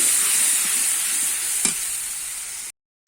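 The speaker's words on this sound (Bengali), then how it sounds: "আমি একটু নেড়ে নেব এইভাবে আমি একটুখানি কষিয়ে নেব" Spiced pointed gourd being stirred and fried in a pan, a steady close sizzle with a single scrape of the spatula midway, then a brief cutoff near the end.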